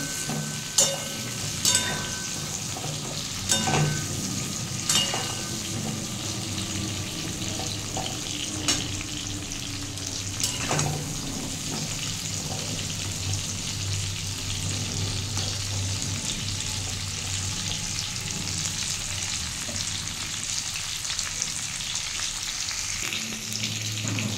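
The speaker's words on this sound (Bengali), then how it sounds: "একটু সামান্য হলুদ দিয়ে আমি পটলগুলো একটু লাল লাল করে ভেজে নেব।" Pointed gourd (parwal) pieces fry in hot oil with turmeric, giving a continuous close sizzle and crackle with occasional sharp pops and stirring scrapes throughout. No one speaks.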